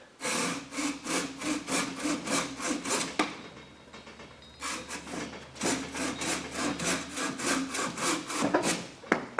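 A Silky Gomboy 240 mm Professional curved folding saw cuts through wood in steady, rhythmic rasping strokes, close and clear, with a short pause midway before the sawing resumes.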